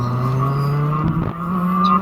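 A retro TKM kart brakes into a corner on a wet track at Lockwell Hill, its engine droning steadily, then dipping briefly as the tires scrub under braking before the note picks up again, with no talk.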